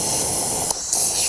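A Honda Shadow VT1100 brake line bleeder is cracked open while fluid is sucked out, giving a loud continuous hiss that cuts out for a moment and then resumes.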